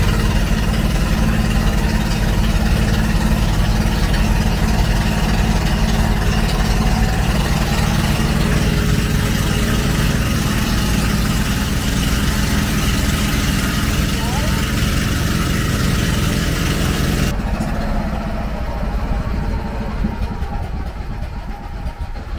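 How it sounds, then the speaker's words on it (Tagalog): A boat motor runs steadily at close range, a constant loud mechanical drone that shifts in tone and gets a little rougher near the end, with a voice talking over it. "Ito yung motor ng boat."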